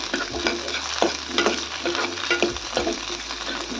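Onions with ginger and garlic fry in a pan for Savji egg curry, giving a continuous close sizzle. Repeated scraping stirs break in at a regular rhythm.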